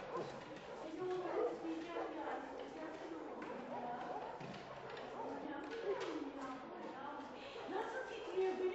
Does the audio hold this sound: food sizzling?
no